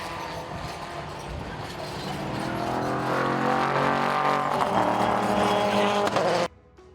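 Race car engine, adapted for hand controls, revving and building steadily with tyre squeal mixed in, loud and close for several seconds before cutting off abruptly to near quiet.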